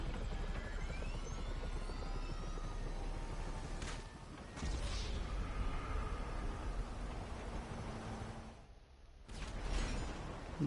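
Steady roar of a helicopter's rotors and engine in a video game, continuous and fairly close, briefly dipping before surging back.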